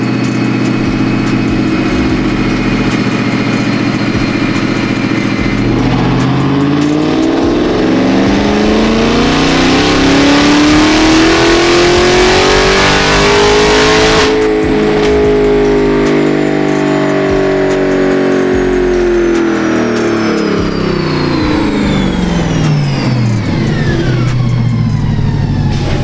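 A supercharged Chevrolet C8 Corvette with an LT2 engine roars through a loud, sustained dyno pull, its pitch rising with a whining supercharger on top, then falling as the revs wind down.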